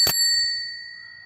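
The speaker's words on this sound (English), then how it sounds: "Proper Raleigh bell on that." A single bright ding from a polished original Raleigh bell on a Raleigh Chopper bicycle, struck once up close and left to ring out with a clear, slowly fading tone.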